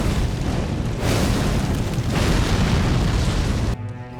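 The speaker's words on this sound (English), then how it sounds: "Parry the eruption after you hear the deep fried fire sound initialize." Messmer the Impaler in Elden Ring unleashes a fiery eruption attack, a loud, sustained roaring blast that surges twice and then cuts off abruptly into a fading tail.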